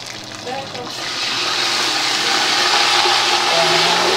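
Water poured onto browned onions frying in a pan, a loud steady steam hiss and sizzle that swells after the first second and holds strong to the end, with a faint voice underneath early on.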